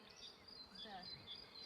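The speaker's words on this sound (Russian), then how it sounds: "Сходили сегодня к пчелам, поковырялись." Bees hum around their hives during an apiary visit in a village garden, a faint, continuous buzz with individual insects whining past.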